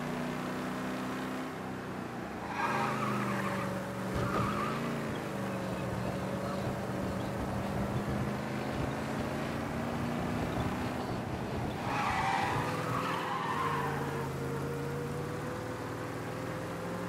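A car slides sideways and skids in Mafia Definitive Edition, its engine droning steadily throughout while tire-scrub bursts flare up twice, early on and again near the end.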